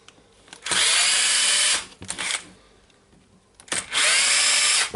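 A Milwaukee M18 power tool whirs in two sustained bursts, about a second each, removing over-tightened screws from a hammer housing, separated by quieter clicking and handling noise, close by.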